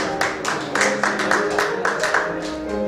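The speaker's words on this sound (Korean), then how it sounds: "박수 주십시오" A crowd at a church general assembly of a Presbyterian revivalists' association in a memorial hall claps for pastors. The claps are even and rhythmic, falling in regular beats about four per second, fairly loud and close.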